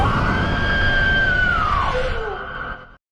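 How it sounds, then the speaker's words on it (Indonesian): A woman screams hysterically in shock in a film scene, one long, loud sustained shriek that bends downward in pitch and cuts off abruptly. "Ia pun kaget dan berteriak histeris melihat apa yang terjadi."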